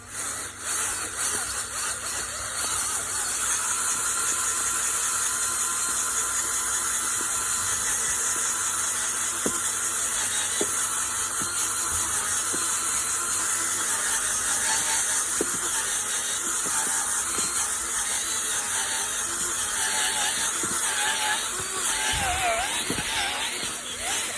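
A homemade motorized winder, built at zero cost, rolls up an 8 by 4 metre bar-type pool cover with a steady, close mechanical whir and hiss that runs unbroken throughout, with a few faint clicks near the end.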